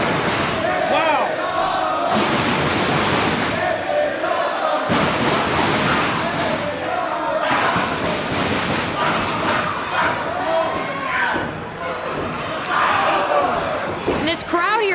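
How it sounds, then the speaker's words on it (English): Loud, dense crowd roar at a live Ring of Honor professional wrestling match in Columbus, swelling and surging throughout with bursts of cheering and thuds, while commentators talk over it. "And this crowd here tonight is intense."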